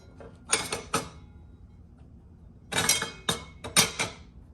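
Steel chipper blades from a Diablo Freud table saw dado set are handled and stacked onto the arbor, giving sharp metallic clinks and clacks in two close, quick clusters with quiet between them.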